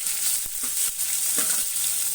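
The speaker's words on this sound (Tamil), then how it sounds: "வெங்காயத்தை போட்டு நல்லா வதக்கிக்குவோம்" Onions sizzle and crackle in hot oil with urad dal for pori arisi upma, a steady frying hiss with a few soft stirring knocks, no voices.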